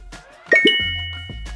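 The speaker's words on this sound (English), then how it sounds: "it took just under 4 seconds to send a notification to my phone" A chime plays as a phone notification from the eufy water sensor app, two quick bright tones followed by a sustained ringing tail over a low hum, fairly close and alone.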